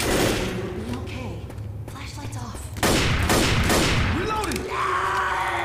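Gunfire from a sniper rifle rings out in the video game Left 4 Dead. Loud shots land amid game noise and an ongoing roar of combat while a player talks over the action.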